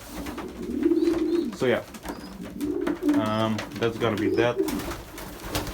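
Pigeons coo in low, throaty, repeated phrases during breeding season, close by and fairly loud, while someone talks briefly over them.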